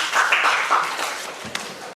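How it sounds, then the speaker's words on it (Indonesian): A classroom of students applauds a classmate with dense, loud, overlapping clapping that swells and then thins out over about two seconds. "Tepuk tangan untuk Sinta."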